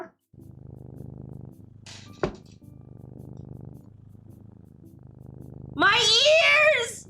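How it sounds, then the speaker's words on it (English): A kitten purrs in a steady low rumble through most of the moment, broken by a brief sharp knock, before a loud high-pitched voice cuts in near the end. "The kitten makes a purring sound, clawing at my clothes with his tiny paws."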